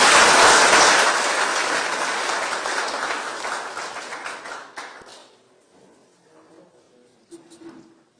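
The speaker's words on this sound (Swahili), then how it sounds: "Simpigie mama makofi." Audience applause for someone speaker at a Kenyan prison event in Mwea, Kirinyaga County: loud, dense clapping that fades over several seconds into scattered claps and room noise.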